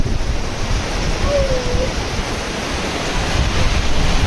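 A loud, continuous roar of rushing water from a dam spillway near Nashik fills the whole clip, steady and broadband like a torrent pouring over a spillway.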